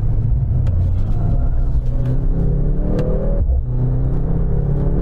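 A Mercedes-AMG C63 hybrid with a 680 hp four-cylinder engine accelerates hard on a race track on warm tyres, its loud engine note droning and rising steadily, with one brief dip in the middle of the run.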